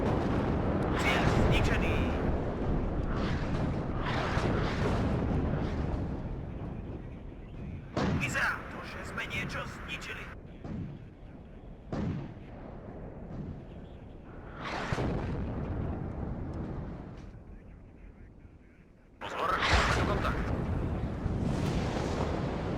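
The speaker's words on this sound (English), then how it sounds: "I will manually fire the artillery from now on." Artillery barrages and explosions in the WARNO wartime strategy game, a series of heavy booming blasts rolling out at irregular intervals, some sharp and close, others fading into a low rumble under quieter stretches.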